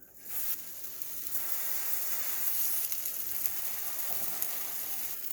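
Keto buffalo grilled cheese sandwiches sizzle on a hot griddle, a steady, close, bright crackling hiss that swells in within the first half second and holds evenly to the end, with no talking.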